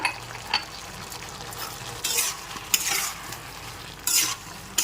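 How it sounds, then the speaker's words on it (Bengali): Vegetables with white sesame being stirred in a frying pan, a low sizzle under repeated scraping sweeps of a spatula that come in irregular bursts, with a few light clinks against the pan. "নেড়ে চেড়ে মিশিয়ে নিচ্ছি"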